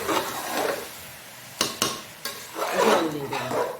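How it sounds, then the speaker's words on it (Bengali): Three large potatoes are stirred in a cooking pot for egg biryani, with soft scraping swells, a few sharp clanks of the spoon against metal, then more scraping. "একটু নেড়ে চেড়ে"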